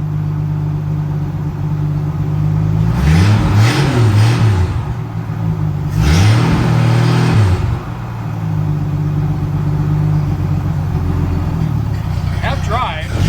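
The engine of a Derby Eagle car revs hard in two loud surges over a rough, droning idle while the strained transmission moans. Someone talks over the engine noise.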